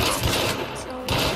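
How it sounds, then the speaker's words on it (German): Gunfire in the video game Hunt: Showdown, a dense burst of loud, continuous shots lasting the whole moment with a brief dip in the middle, alone without talk. "Wo gehen meine Schüsse hin?"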